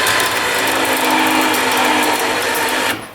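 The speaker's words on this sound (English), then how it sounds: "I'm running the winch like this" A winch spools in its cable with a loud, close mechanical whirring and ratcheting rattle that runs steadily for about three seconds, then stops abruptly.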